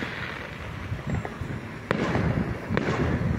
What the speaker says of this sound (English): Yep, catch the fireworks over there